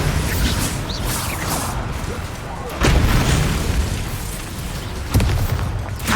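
A Bombarda spell blast in the Hogwarts Legacy video game lands as a heavy booming burst amid ongoing battle noise, with a second sharp impact following a few seconds later.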